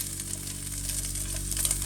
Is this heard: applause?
no